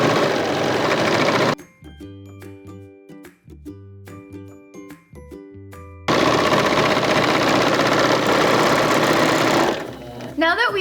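A serger overlock machine stitches along a sweater edge in loud, rapid mechanical bursts, with a quiet pause of clicks between runs, then a long continuous whirring run before it stops.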